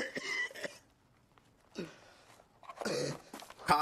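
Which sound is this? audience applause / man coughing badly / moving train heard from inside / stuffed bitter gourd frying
man coughing badly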